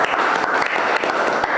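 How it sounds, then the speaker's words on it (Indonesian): Loud, close applause in a classroom-style setting, many hands clapping in a fast, continuous patter with some sharper individual claps standing out, lasting the whole stretch with no talk over it. "yuk berikan tepuk tangan untuk keduanya"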